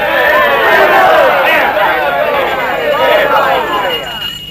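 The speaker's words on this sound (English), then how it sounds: "Let's have a cheer for gold." A crowd of townspeople cheers and hollers together in a Western film scene, a loud, dense wall of voices that swells early, holds steady, then fades toward the end.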